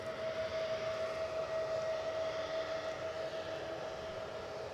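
An Air France airliner departing Edinburgh airport sends out a steady, moderately distant jet engine roar with a sustained high whine running through it, heard on its own without talk.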